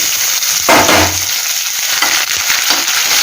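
Onion and green chilli hit hot tempering oil for a raw banana pulusu, bursting into a loud, dense sizzle that flares suddenly and then crackles steadily throughout, with no talking.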